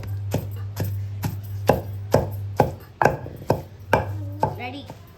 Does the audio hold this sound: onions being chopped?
yes